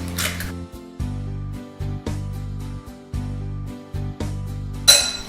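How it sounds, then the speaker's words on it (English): An egg is whisked in a bowl in a run of rapid clinking strokes that come in about five short bursts. The bursts are separated by brief pauses, and the sound is close and fairly loud with no talking. "I'm going to crack 1 egg and go ahead and beat it"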